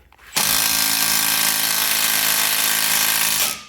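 An impact wrench starts abruptly and runs at a steady, high-pitched whir for about three seconds while driving a bolt with a 16 mm socket on a Jeep bumper install, then winds down. It is close and there are no voices.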